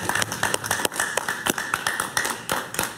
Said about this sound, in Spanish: Un aplauso para Ernesto, por favor